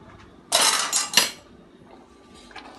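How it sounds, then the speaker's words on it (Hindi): A spoon clatters against a metal pot while stirring garam masala into black-eyed pea curry, two close, loud scraping bursts followed by a faint clink. "अब इसके अंदर मैं गरम मसाला करके थोड़ी देर मिक्स करके"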